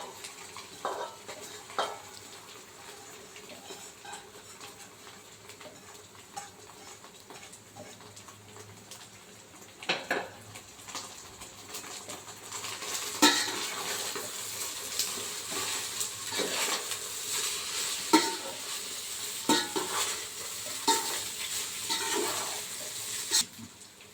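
Egg fried rice is stirred and tossed in a hot pan, a quiet sizzle broken by scraping and clinking spatula strokes that grow busier partway through, with no one talking.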